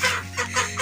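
A chicken being caught for cooking lets out a few quick, nasal clucks in short bursts, close and fairly loud over a low background hum.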